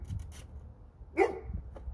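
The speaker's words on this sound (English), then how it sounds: "guys can probably hear my dogs playing in the background." A single faint bark or yip from a dog somewhere in the distance, with some soft thumps and rustling around it.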